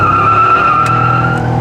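A 2006 Pontiac Grand Prix GXP with a muffler delete and traction control off, roaring loud and close under hard throttle as its tires spin and squeal, the engine and tire noise held steady throughout.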